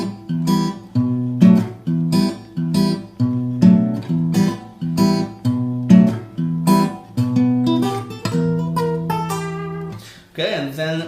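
Fingerstyle guitar picks out a melody over chords in a steady rhythm of plucked, ringing notes, close and clear with no talking, ending on a sustained chord.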